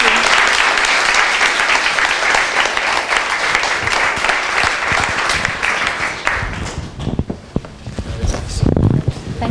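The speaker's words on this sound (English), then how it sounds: "let's give her another round of applause" A seminar audience gives a round of applause after an urban energy systems talk, loud dense clapping for about six seconds that thins into scattered claps, shuffling and a voice speaking.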